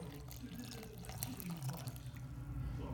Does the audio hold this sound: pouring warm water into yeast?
yes